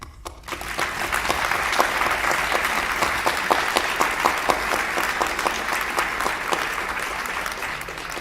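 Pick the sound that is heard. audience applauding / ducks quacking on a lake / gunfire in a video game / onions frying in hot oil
audience applauding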